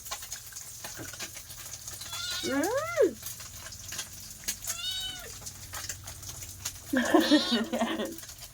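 A cat meows close by several times, with rising and falling drawn-out cries separated by short pauses, ending in a rougher, more agitated call.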